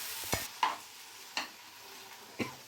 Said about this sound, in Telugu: ఇవి కాసేపు వేగనిద్దాం.